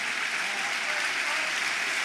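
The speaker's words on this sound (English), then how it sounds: "The goal scorer gets warm applause for his performance." A football crowd at Blackburn Rovers versus Leeds United applauds the goal scorer, Cantwell, as he is substituted off, a broad, even wash of distant stadium clapping with no distinct individual claps.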